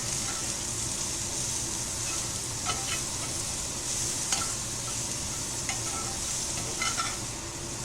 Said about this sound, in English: Put these peppers and onions in here. And we're going to let this saute.